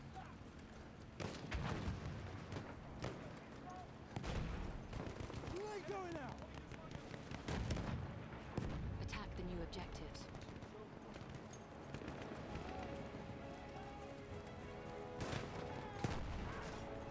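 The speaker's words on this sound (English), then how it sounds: "Wait for the enemy artillery barrage to stop firing." Artillery barrage and rifle fire rattle through a Battlefield 1 match: dense bursts of gunfire and heavy booming impacts, some near and some distant, run throughout while a player talks over the combat.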